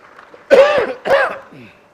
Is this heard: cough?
yes